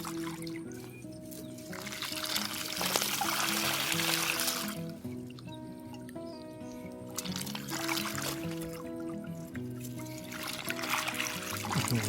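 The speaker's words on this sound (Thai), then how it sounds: "น้ำไหลออกนะครับ" Water splashes and trickles steadily as it flows out of a fish trap, over a low, continuous hum, with brief broadband bursts of pouring and faint tonal chirps in the background.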